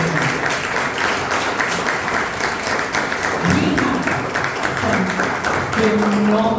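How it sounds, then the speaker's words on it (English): A meeting audience at a Toastmasters anniversary event claps for the contributors, producing dense, sustained applause across the whole stretch, with a voice briefly heard under the clapping. "let's hear a big round of applause for all the Brighthearts who contributed to today's event"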